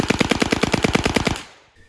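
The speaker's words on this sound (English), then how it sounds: "The Uzi is an extremely controllable machine gun with a fire rate of around 600 rounds a minute." Uzi machine gun firing a sustained fully automatic burst of about twenty evenly spaced, loud, close shots at a fast steady rate, then stopping abruptly into a short echoing decay.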